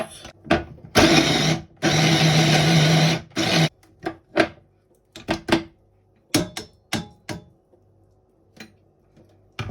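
An electric chopper grinding peppers whirs in loud bursts, one long run of nearly two seconds and several shorter pulses, then quick on-off taps, near and with no talking.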